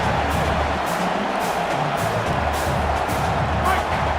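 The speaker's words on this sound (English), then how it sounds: "listen to this crowd noise. This stadium is vibrating" A roaring stadium crowd in a college football video game, a dense continuous wash of cheering and noise with no break, loud throughout, with a faint voice under it.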